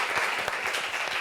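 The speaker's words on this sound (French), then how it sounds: "applaudissements pour lui, s'il vous plaît." Brief burst of audience applause at a mixed-marriage event in Réunion, dense steady clapping throughout.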